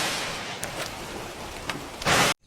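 A cartoon rainstorm pours as a dense, continuous hiss, with a few sharp bright crackles. It swells into a loud burst near the end, then cuts to a moment of silence and resumes.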